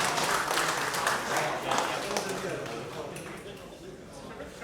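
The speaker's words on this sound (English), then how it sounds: "please do give them a round of applause" Applause from an awards audience at the Great Electric Train Show 2024, for a model train winner in absentia; steady clapping for several seconds, slowly thinning toward the end.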